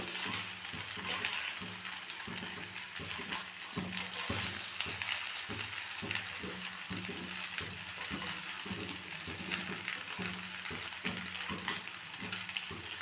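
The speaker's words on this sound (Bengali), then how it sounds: "একটু ভালো করে মিশিয়ে নেব।" Chicken pasta with salt, ground pepper, oregano and grated cheese is stirred and fried in a pan: a steady sizzle runs throughout, with a regular rhythm of spatula strokes scraping through it, close and clear with no talk.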